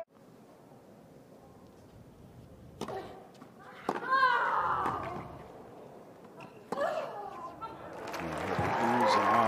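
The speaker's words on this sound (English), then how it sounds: "Oohs and ahs from the crowd after that." Tennis crowd at a 2022 Indian Wells WTA match reacting after a rally, with bursts of oohs and aahs swelling twice and building toward the end, under light background chatter.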